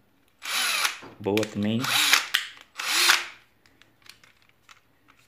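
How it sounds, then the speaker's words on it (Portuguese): A Bosch cordless drill/screwdriver in a hobby home workshop whirs in four loud, close bursts of roughly half a second to a second each, with a brief spoken comment in between. "Parafusadeira e furadeira."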